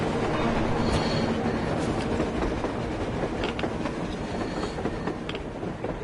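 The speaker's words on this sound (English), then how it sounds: "A train! A damn train on the surface!" A train rolls along above ground in the video game Metro Exodus, with a steady rumbling clatter of wheels and cars. The sound is loud and continuous, with faint metallic squeals now and then and no talk.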